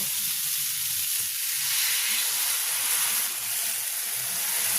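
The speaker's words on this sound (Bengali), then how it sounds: "এখন আমি পরিমাণ মতো জল দিয়ে দেব।" Water hits hot fried spice paste in a village kitchen pot, producing a loud, continuous, close-up hissing sizzle with no talk over it.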